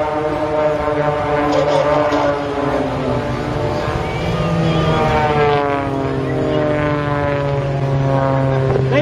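Aerobatic team aircraft at the Northern Ireland International Air Show in Portrush sweep past with a loud, continuous propeller drone, the engine pitch sliding steadily as they approach and pass, with no speech.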